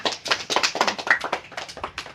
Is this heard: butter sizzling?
no